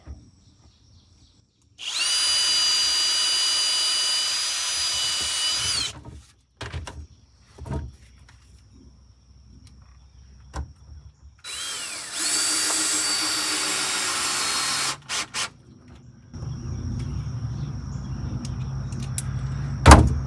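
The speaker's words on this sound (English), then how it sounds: "go ahead and drill one hole" A power drill whines loudly in two long bursts while drilling a hole for a Toyota Sienna camping conversion, separated by quieter handling clunks and knocks, then a lower mechanical hum near the end.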